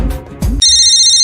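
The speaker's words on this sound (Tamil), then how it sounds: "ஏய் ஃபோன் அடிக்க, ஃபோன் எடுறா." A mobile phone ringtone bursts in loud and steady after a short moment of voice, a bright sustained electronic tone held to the end.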